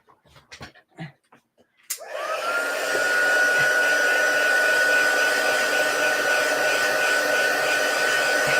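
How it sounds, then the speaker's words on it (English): A hair dryer switches on to dry a wet craft project, a few faint soft knocks first, then a loud steady whooshing blow with a thin whine held to the end. "Oh, it's a bit too wet. Let me just dry it."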